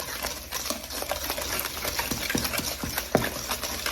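An electric whisk whirring steadily through mashed sweet potato with egg for cookie dough, a close, continuous motor buzz with faint rhythmic ticks as the beaters hit the bowl.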